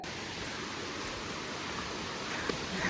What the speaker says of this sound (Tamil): இப்போ நல்லா சத்தம் கேட்க ஆரம்பிக்குது வாட்டர் ஃபால்ஸோடது